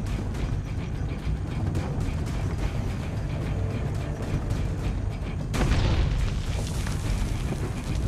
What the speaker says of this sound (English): All the cannons are destroyed.